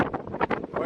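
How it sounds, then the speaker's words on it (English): Wind gusting across an open hilltop, buffeting the microphone in uneven, rumbling surges for under a second with no speech. "It's quite windy, so I might have to shout"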